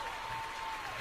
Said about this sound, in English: Some applause in there right quick.